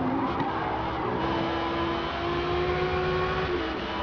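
A race car in the Forza racing game drones steadily through a corner, its engine holding a sustained tone with slight pitch shifts and faint tyre noise, loud and continuous throughout.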